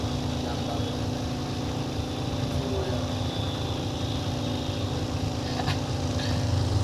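Steady, continuous low rumble of several idling engines, loud and close, with faint voices and occasional horn-like tones mixed in.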